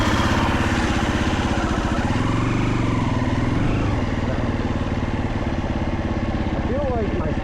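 Motorcycle engine being prepared for a first race runs loud and close, its pitch wavering and surging as the clutch is feathered, with a voice talking over it.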